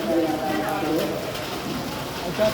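Steady rain falls at a railway station with a footbridge and an unroofed platform, a continuous wash of patter close around, with people talking over it throughout.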